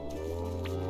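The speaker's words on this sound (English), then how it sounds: "let's milk all the cows." Game milking sound from a cow in Story of Seasons: Grand Bazaar, a short wet squishing squirt over a steady humming music bed.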